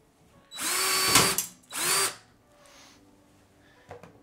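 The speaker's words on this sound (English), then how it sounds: "So just go ahead and drill that out." A power drill bores out a 3/16 rivet in the metal case of a Dell OptiPlex computer, two loud whining bursts about a second each, then a brief faint touch of the bit near the end.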